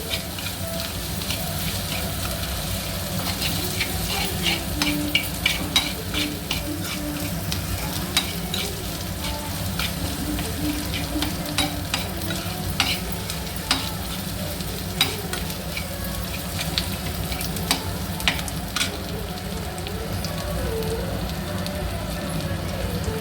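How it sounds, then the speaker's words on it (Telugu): Spiny gourd, boda kakarakaya, fries in a pan for a spicy gravy curry with a loud, steady sizzle close at hand. Scattered light taps and scrapes of a stirring spoon sound throughout. "కొంచెం ఫ్రై కావాలి ఇది."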